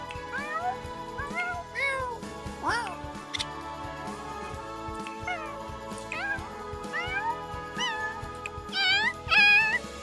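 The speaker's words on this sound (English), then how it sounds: "She has a really, really, really high meow." Several high, thin cat meows from a female cat in The Sims 4, rising and falling in short calls over steady game music, louder and squeakier near the end.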